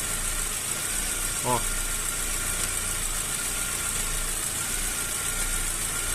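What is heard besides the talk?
Chevrolet Cobalt 1.8 engine idling unevenly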